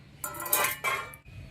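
A cover is lifted off a bowl of semolina batter for malpua, giving a brief clink and scrape of dishware, two short bursts of contact sound that ring out close and clear.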